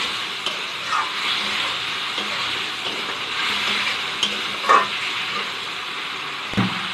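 Spice paste for a Bengali fish curry with eggplant and potato sizzles in a pan while a spoon scrapes and stirs it, a steady close frying hiss broken by occasional knocks.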